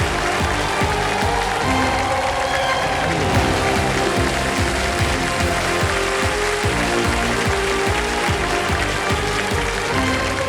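A studio audience on a television quiz show welcomes a rollover contestant with sustained loud applause, a dense continuous patter of many hands clapping with no break, under music.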